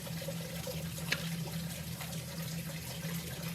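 Cold distilled water runs and splashes steadily while rinsing out laboratory glassware, a continuous close trickle with a faint clink partway through.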